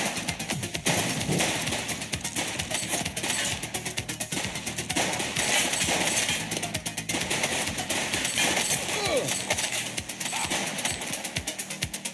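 Dense, continuous gunfire from a police shootout in The Precinct, rapid shots crackling nonstop at steady loudness with occasional heavier thumps, fairly close and filling the scene.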